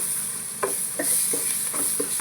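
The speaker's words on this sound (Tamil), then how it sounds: "இதை நல்லா கொஞ்சம் கிளறி விட்டுக்கணும்." Biryani masala with coriander being stirred in a pan for chicken biryani: about half a dozen soft spoon scrapes over a faint, steady sizzle, quiet and close.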